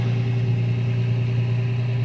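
A 2nd-generation 2005–2015 Toyota Tacoma with a Magnaflow Overland Series exhaust idles close by, giving a steady, smooth low rumble that stays only slightly louder than stock and holds even with no other sounds.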